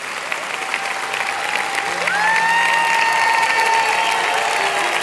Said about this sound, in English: Y'all are already clapping.